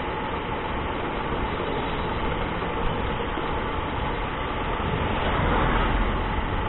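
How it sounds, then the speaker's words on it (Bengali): Motorbike riding along a two-way country road toward Chakdah, with a steady engine drone and wind rumble, loud and continuous throughout, with no talk. "এই রাস্তা দিয়ে আমরা অনেকক্ষণ বাইক চালিয়ে যাচ্ছি।"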